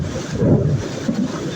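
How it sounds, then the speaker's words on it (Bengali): Heavy rain falls at night during a thunderstorm with lightning, a brief low rumbling wash with gusty swells, close and fairly loud for under two seconds. "দেখুন প্রচুর বৃষ্টি হচ্ছে আমাদের এখানে।"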